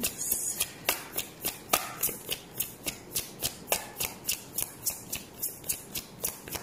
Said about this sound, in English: I'm taking the cards that fall on the table specifically.